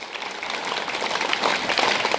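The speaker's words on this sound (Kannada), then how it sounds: "ನಿಮ್ಮೆಲ್ಲ ಟೀಚರ್ಸ್ಗೂ ಒಮ್ಮೆ ಒಂದು ಜೋರಾದ ಚಪ್ಪಾಳೆ ತಟ್ಟಿ ನೋಡೋಣ" School students applaud their teachers at an Independence Day function at a government school, a loud, sustained burst of crowd clapping that swells slightly toward the end with no voices over it.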